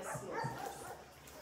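Small dogs at an animal shelter give faint yips and soft barks in the background, brief and distant.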